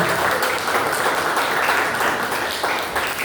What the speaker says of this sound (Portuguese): Receba o pastor Fabiano com as palmas de Deus